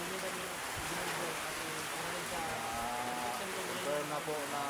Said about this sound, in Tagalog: Kahit malakas ang ulan, no? Lakas ang idol ulan, no? Sa labas, lakas.